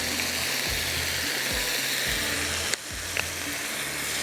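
Chicken sizzles and fries in hot oil as soy sauce goes into the pan for a crispy fried chicken dish, a steady close hiss with a few low thumps and a sharp clink of utensils partway through.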